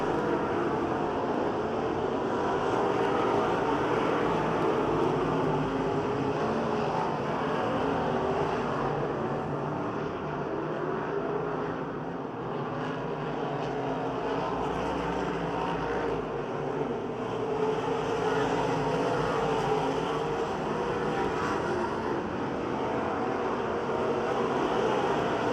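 Race cars at Pennsylvania Motor Speedway in Pittsburgh roar steadily past as they race, a dense, continuous engine drone that holds loud for the whole stretch with only slight swells.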